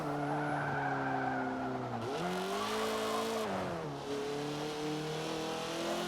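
A race car in Forza Motorsport 7 brakes too hard into a corner, its tires squealing in a long continuous skid over the engine's steady drone, loud and close, with no voices.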